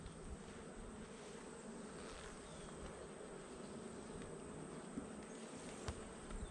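Honeybees buzz around a hive frame of drawn comb nearly filled with honey, a dense, continuous hum with occasional louder passes of individual bees close by.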